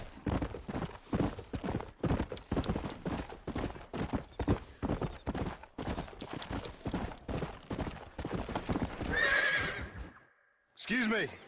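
A horse gallops in the video game Red Dead Redemption, its hoofbeats a fast, loud, rhythmic clip-clop, followed by a whinny near the end and a brief burst of speech.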